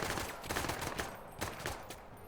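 Three quick pistol shots crack out in the tactical video game Menace, each sharp report standing alone with brief gaps between them over a low background hum.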